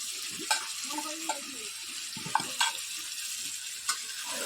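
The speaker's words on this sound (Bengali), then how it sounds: "এবার হালকা তেল ছেড়েছে, এর মধ্যে এবার আলুগুলো দিয়ে দিলাম।" Potato pieces fry in lightly heated oil while a chicken and potato curry is made, a soft steady sizzle broken by a few sharp scraping clinks of a spoon stirring the pan.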